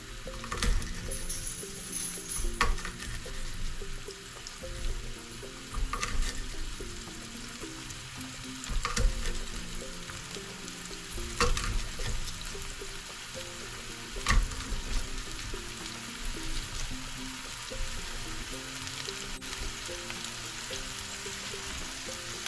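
Hot peppers sautéing in a pan for the Curaçao dish keshi yena, a long steady sizzle with occasional louder crackles and stirring scrapes, no voices.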